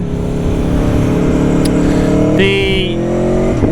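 A V4 sport motorcycle engine revs hard and close, a dense buzzing drone that surges and climbs in pitch toward the end.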